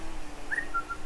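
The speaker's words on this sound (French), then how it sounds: "Sifflement innocent du joueur." A short, thin whistle from a player in the Blood Bowl 2 video game, a couple of brief high tones sounding faintly over a steady low background hum.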